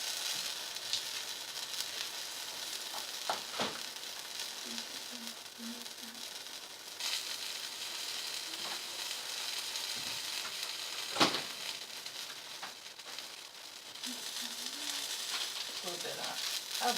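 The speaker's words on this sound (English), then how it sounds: "The pancakes mostly cook through to the other side, so now you're just cooking the top of it." Pancakes cooking in a hot pan give a soft, steady sizzle and hiss that runs throughout, close and fairly quiet, with a few faint clicks and light knocks over it.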